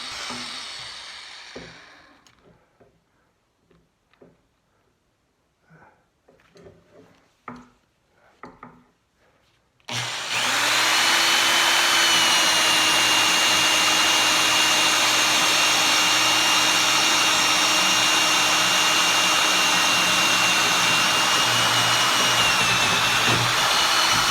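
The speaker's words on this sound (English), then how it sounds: "So you attach these, this big old Forstner bits just like you do everything in terms of attaching a drill bit." A big drill with a large Forstner bit starts after a stretch of quiet tapping and handling sounds, then runs as a loud, steady whine, close by and sustained for over ten seconds.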